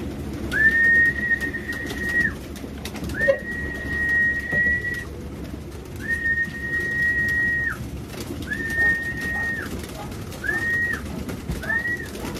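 Several racing pigeons coo and whistle in a repeating series of drawn-out calls, each a couple of seconds long, over a steady background murmur.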